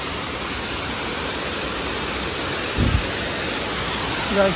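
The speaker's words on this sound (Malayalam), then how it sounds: "ഇതാ വെള്ളച്ചാട്ടം കണ്ടാ" A waterfall near Kakkayam Dam in Kerala cascades from high above, a steady broadband rush of falling water heard up close, with a brief thump midway.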